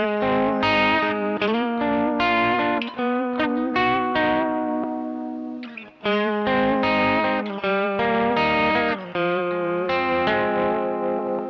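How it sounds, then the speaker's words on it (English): Electric guitar played through an OPFXS Electric Vibe pedal, its Univibe-style vibrato giving a throbbing, swirling pulse to strummed chords and single notes, loud and continuous with one brief pause midway. "what this vibrato sounds like"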